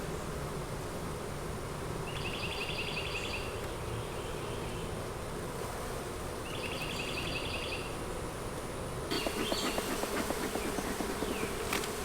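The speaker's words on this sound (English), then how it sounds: "Just trap those bees in there for today." Honey bees buzzing around beehives, a dense steady outdoor drone of many insects, with a few closer passing bees rising briefly above the swarm.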